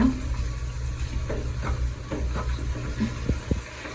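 Ginger frying in a pan makes a steady close sizzle and hiss, with light stirring scrapes and small clicks spread across the few seconds, no voices.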